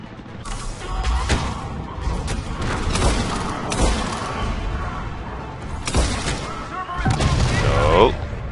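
Enemy Atlas mechs fire in Mass Effect with booming blasts, crashes and bursts of gunfire, loud and dense with several sharp impacts, ending in a swelling mechanical whine.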